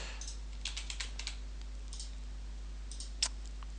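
Soft, irregular keystrokes tap on a computer keyboard as a root password is entered, short bursts of clicks with brief pauses and one sharper final key press over a low steady hum.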